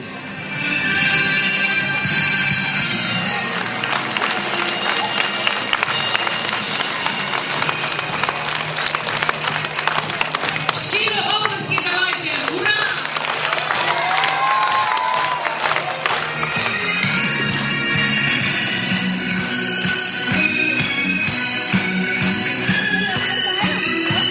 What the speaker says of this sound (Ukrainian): дружніми оплесками надамо старт нашому проекту та сьогоднішньому святу